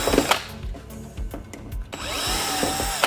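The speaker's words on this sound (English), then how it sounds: "We're gonna need our drill now." A power drill runs in short bursts during a wall-mounted unit repair, with whirring spins, stops and clattering handling noises close by.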